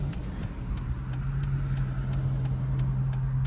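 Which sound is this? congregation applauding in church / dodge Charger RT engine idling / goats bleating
dodge Charger RT engine idling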